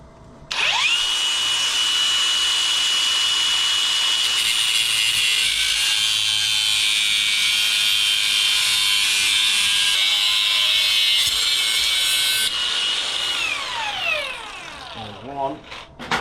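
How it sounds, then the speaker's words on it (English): A cordless power saw runs through a cut for the light bar build, making a loud, steady high-pitched whine that holds for about twelve seconds before spinning down. "we just gotta hope we've got enough beans in the cordless to get through 4 cuts"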